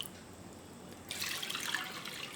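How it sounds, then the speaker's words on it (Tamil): Tap water runs into a vessel to rinse moong dal in a home kitchen, a faint quiet trickle that grows into a steadier splashing flow partway through. "இப்போ இத நல்லா ஒரு கிளாஸ் தண்ணி விட்டு அலசி எடுத்துக்கிறேன்."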